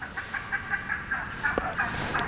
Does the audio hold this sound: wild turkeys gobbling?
yes